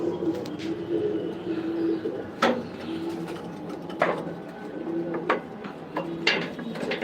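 Racing pigeons coo in their loft, one brooding on eggs, with several low, throaty coos rising and falling at intervals over a soft background hum.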